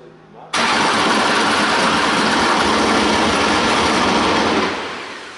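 A 1996 Alfa Romeo 155 DTM race car engine fires up abruptly after a brief starter whir, then roars loud and close in a steady, raw idle, easing slightly at the end.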